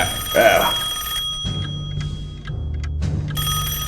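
A telephone bell rings in one short burst near the start of a radio drama scene. It is followed by quieter room sounds over a steady low hum, with no talking.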